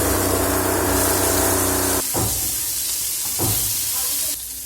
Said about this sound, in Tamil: இப்போ ஒன்று போட்டு வறுத்துக்கலாம்.